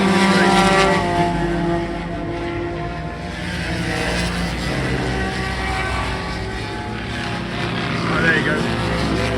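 A Triumph T160 motorcycle races at Mallory Park, its engine a steady, droning roar that swells slightly near the end, with someone talking over it.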